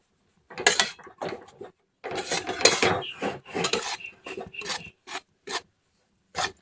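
Wheat flour dough being roasted with ghee residue in a pan, heard as repeated dry scraping and rasping strokes of a spatula against the metal, in short irregular bursts with gaps between them.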